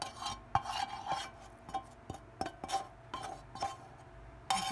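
Stir-fried ramen is moved onto a plate, with a run of sharp clinks and scrapes of a utensil against dishware, spaced irregularly over quiet background.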